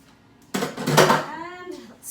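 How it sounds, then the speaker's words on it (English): A metal cake pan set down near a kitchen sink gives a sharp clatter, followed by a ringing metallic rattle that fades over about a second. "I'm gonna put the pan over near the sink."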